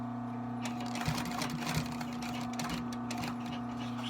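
A sewing machine stitching a shoe during a Mephisto restoration, running steadily with a continuous mechanical whir and a rapid rhythmic needle clatter, close and fairly loud, with no talk.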